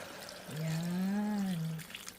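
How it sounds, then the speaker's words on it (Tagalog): Water poured from a prepared container into a cooking pot while making a home-style Japanese dish: a steady, close pour lasting over a second, its filling tone rising as the pot fills, then a few faint drips. "lalagyan na natin siya ng tubig para malalong lambot"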